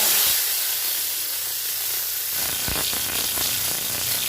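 Black mustard seeds and chopped potatoes drop into hot oil, a broad loud hiss that flares partway through into sputtering, crackling sizzle, continuous and close with no talking.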